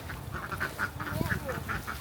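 Ducks quack in a rapid, busy chorus of nasal calls, fairly close, with faint background voices.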